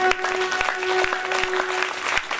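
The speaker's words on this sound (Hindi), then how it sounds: "राम जी के विवाह में ताली बजाने में कंजूस।" An audience at a live Shrimad Bhagwat Katha religious gathering claps continuously, a dense patter of hands over a steady droning musical tone.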